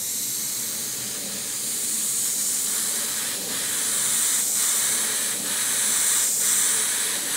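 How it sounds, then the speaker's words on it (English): An airbrush or spray gun sprays a mixed flesh-tone paint in a steady, close hiss with a few short pulses of stronger spray toward the end. "I'll spray a bit of that out to show you what it looks like when it's a little bit lighter."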